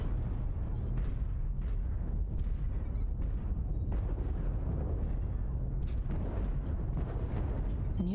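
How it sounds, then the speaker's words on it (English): An artillery strike in a mech combat game sends dense, continuous booming explosions for several seconds, with sharp impacts and a rumbling low roar layered throughout. "Artillery strike activated"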